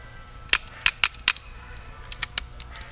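Azodin Blitz 4 paintball gun firing with firing issues, sharp close pops, four spaced shots, a pause, then three more quieter shots, with no talk.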